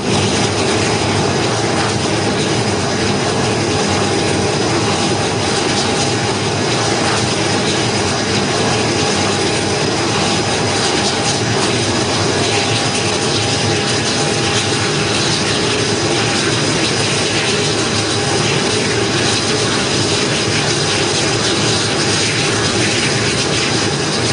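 An aircraft flies in to land on a carrier deck, its engine roar loud, close and unbroken for the whole stretch, with wind and ship noise blended into a dense, constant drone.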